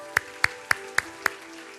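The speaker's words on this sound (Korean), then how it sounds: "우리 다시 한번 하나님 앞에 영광과 감사의 박수 올려드리도록 하겠습니다." Five evenly spaced claps ring out one after another during a church service, crisp and moderately close in a reverberant room with no other sound.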